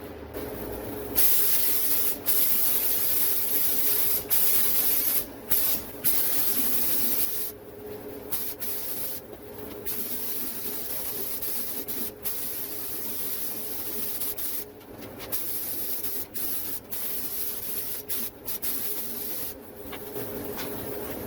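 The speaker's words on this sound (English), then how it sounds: "Alright guys, it's the clear coat. I'm gonna spray it right now." Steady hissing spray of clear coat paint runs almost continuously, broken by brief pauses and faint clicks, close to the microphone, with no voices.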